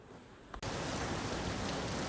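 Heavy rain pours down steadily and loudly, a dense close wash of drops that sets in abruptly after a brief quieter moment at the start.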